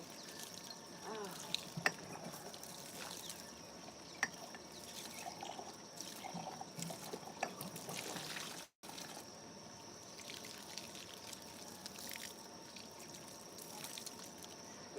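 Water runs steadily from a tap or hose outdoors as mud is rinsed off hands, a continuous close splashing trickle with occasional drips and light knocks, briefly cut off once before flowing on.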